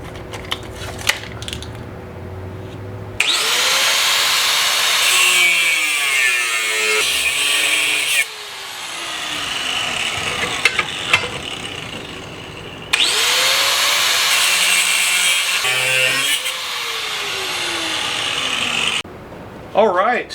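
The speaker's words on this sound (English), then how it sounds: "Alright, so the angle iron is cut." A power saw cutting angle iron in two long, loud bursts of harsh grinding whine that rise and wind down, separated by quieter pauses with brief handling noises.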